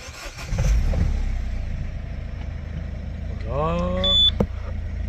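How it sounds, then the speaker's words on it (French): A Citroën C4 Picasso engine cranks and starts near the end after a steady low mechanical rumble, its rising harmonic whine building briefly as it catches, heard close in a workshop setting. "Donc là on fait un coup de démarrage."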